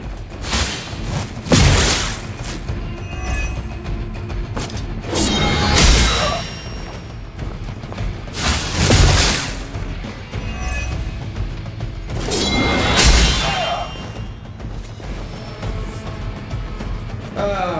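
Shooting and explosions in the video game Midnight Suns, several loud booming blasts with crashing, metallic debris roughly every few seconds over a continuous dense battle din.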